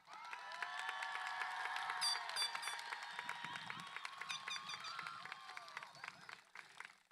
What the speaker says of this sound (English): As you can see, we are cheering for you